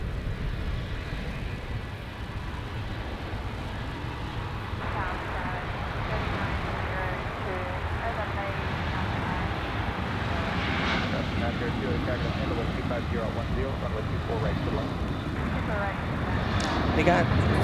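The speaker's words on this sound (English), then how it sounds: "Flight 2606 is a 737, like I said. There it is, powering up on the takeoff roll." A Boeing 737 airliner at LAX powering up on its takeoff roll, a broad steady engine roar that builds slowly and swells louder toward the end, with a voice talking over it.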